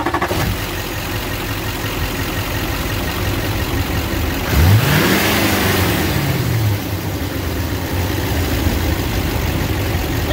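6.6 LBZ Duramax diesel in an old truck idling, then revved sharply partway through with a rising and falling whine before settling back to a steady, close diesel clatter.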